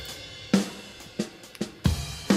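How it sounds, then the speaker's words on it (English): A drum loop plays alone at steady volume, with punchy hits landing roughly every half second in a repeating groove. "I have this stupid drum loop"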